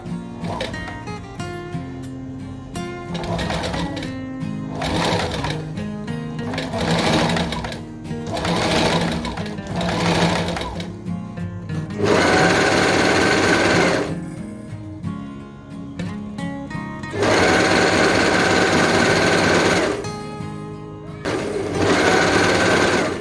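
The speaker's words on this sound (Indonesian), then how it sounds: "Menjahitnya persis di jahitan leher ini ya. Ini bagian dalamnya, ini bagian luarnya. Yuk kita jahit ya." A sewing machine runs along a dress neckline seam in repeated bursts of steady mechanical stitching, each a few seconds long, with short pauses between them and two longer, louder runs near the end; no voices.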